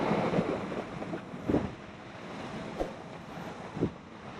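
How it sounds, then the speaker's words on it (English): Big Atlantic waves slosh and splash against a sailing boat's hull in irregular bursts over steady wind noise, with a few sharper thuds of water close by. "especially when we've got waves like this splashing it all about."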